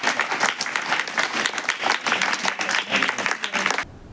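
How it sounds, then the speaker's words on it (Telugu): Audience applause rings out at a birthday celebration held as a tribute, a dense, steady burst of many hands clapping that carries on for about four seconds before stopping abruptly. "మనందరం కలిసి ఆయన ఒకసారి క్లాప్స్ కొట్టి నివాళులు"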